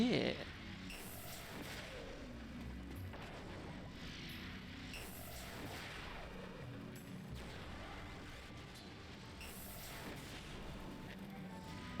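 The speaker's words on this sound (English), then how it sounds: "the explosion counted as a weapon attack to wake him up" Repeated explosions in the Final Fantasy Crystal Chronicles video game, several broad bursts landing every few seconds over a busy, faint game soundscape.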